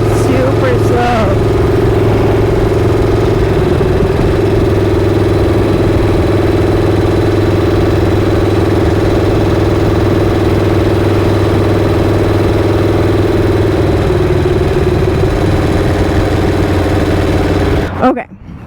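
A Harley-Davidson Shovelhead motorcycle engine idles loud and close, a steady low throbbing rumble that runs unbroken for the whole stretch before cutting off abruptly at the end.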